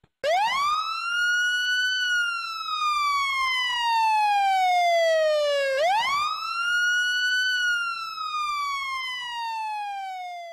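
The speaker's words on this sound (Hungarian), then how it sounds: "Figyelem, riasztás!" Fire station alarm siren wailing loudly and continuously, rising and falling in two long sweeping cycles, close and unbroken with no talking.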